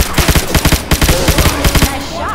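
Rapid gunfire in Left 4 Dead 2, about fifteen sharp, loud shots in quick bursts with brief gaps, close and dominant, with faint voices beneath near the end.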